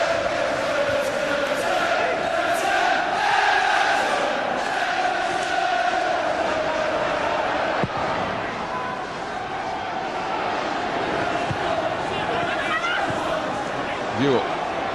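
A football crowd applauds and murmurs after the opening goal at Selhurst Park in the 1999-2000 season, a steady, distant wash of stadium noise with commentary talk over it.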